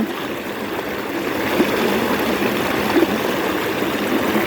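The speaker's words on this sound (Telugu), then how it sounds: "డ్రైనేజీ నీళ్ళన్నీ సమాధుల్లోకి వచ్చేస్తున్నాయి" Drainage water from an overflowing stream floods a Christian graveyard in Narasaraopet, a continuous, fairly loud rushing and trickling flow with no break.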